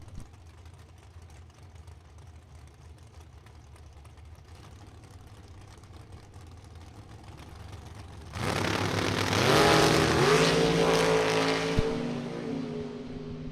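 Drag race cars, including a 1963 Chevrolet Corvette Roadster, idle with a low rumble and then launch together with a loud, sudden roar, engines climbing in pitch through their gears before easing off.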